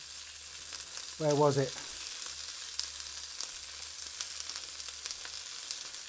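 Onion frying and starting to caramelise in a pan for a Chinese takeaway-style dish, a continuous soft sizzle with small crackles, and a brief voice speaking over it early on.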